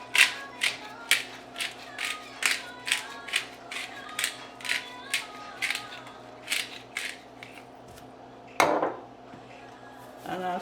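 A pepper grinder cracks black pepper onto vegetables in a run of evenly spaced ratcheting clicks, close and crisp, followed by a louder clatter near the end.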